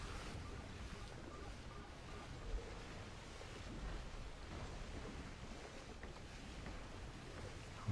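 Water surging and rising in a video game, Kena: Bridge of Spirits, after a ground slam, heard as a steady broad rushing wash like surf with a low rumble, continuous and moderately loud throughout.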